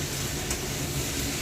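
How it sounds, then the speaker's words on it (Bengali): Thick-cut potatoes with a little onion sizzle steadily in a pan, a continuous close hiss of frying that fills the whole stretch without a break. "এই দেখো আলু ভাজা হচ্ছে"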